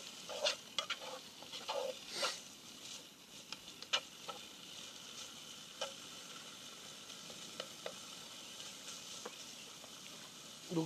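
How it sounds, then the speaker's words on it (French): Bacon lardons sweating in a pan over a camp stove in a forest, a soft steady sizzle with scattered crackles and a few stirring scrapes, close and fairly quiet, no talking. "Petit lardon qu'on va faire suer un peu."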